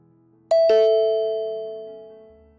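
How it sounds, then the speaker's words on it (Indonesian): A house doorbell gives a two-note ding-dong, both tones struck cleanly and ringing on with a long, gradual decay in an otherwise quiet room. "Terdengar bel rumah berbunyi."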